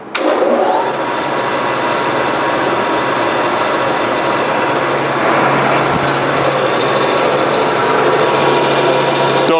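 A large tilting bandsaw running steadily in a workshop, giving a loud, continuous mechanical whir and rumble with a faint rattle throughout.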